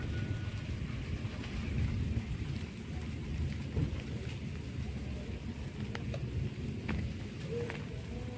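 Steady rain falling outdoors in a rural farming area of Consolacion, Cebu, a continuous dense hiss with a few faint sharp drips or clicks, fairly distant and even.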